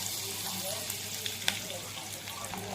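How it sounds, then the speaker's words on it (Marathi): Garlic hits hot oil in a heated kadhai and fries with a soft, continuous sizzle. There is one sharp clink partway through, and the whole sound stays fairly quiet and close. "कढई तापली आहे, तेल टाकून घेतले आहे। लसूण टाकूया"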